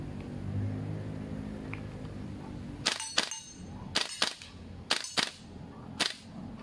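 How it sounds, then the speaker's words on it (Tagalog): An airsoft gun is fired outdoors in quick sharp pops, a pair, then a pair, then another pair and a single shot, loud and close over a steady background rumble. "Barilin natin ulit."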